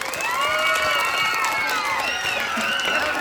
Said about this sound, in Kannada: ಈ ಎಲ್ಲ ಮಕ್ಕಳಿಗೂ ಹಾಗೂ ಶಿಕ್ಷಕರಿಗೂ ಚಪ್ಪಾಳೆಯನ್ನು ಜೋರಾಗಿ ಹೊಡಿರಿ